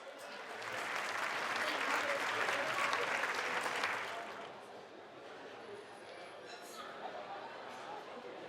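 An audience at a Holi Milan gathering applauds loudly to welcome a guest onto the stage, the clapping swelling to a full roar, then easing off and thinning into scattered claps and murmuring chatter.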